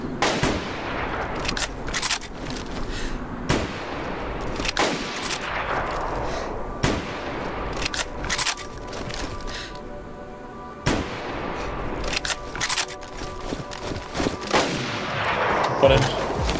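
Gunshots in the video game DayZ, a series of loud, sharp reports spaced irregularly, each trailing into a long echoing decay, distant-sounding with brief quiet gaps between.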